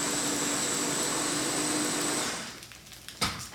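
A Ninja blender pulses cauliflower cream sauce, whirring loudly and steadily for about two seconds, then cuts off, leaving a brief clunk and quiet kitchen noise.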